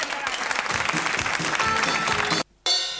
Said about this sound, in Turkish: Evet dediniz alkışlayın.